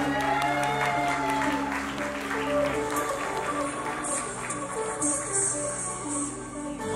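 An audience applauds a pageant contestant at a Mister Supranational Thailand award ceremony, with moderate clapping over a hall's sound system and background music tones.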